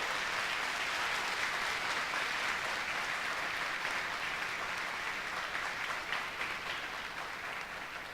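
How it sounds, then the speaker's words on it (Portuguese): Sustained applause from a church congregation fills the room, a dense, loud wash of many clapping hands that continues evenly and tapers slightly near the end. "quer dar a você, de uma forma muito especial, uma forte e calorosa salva de palmas"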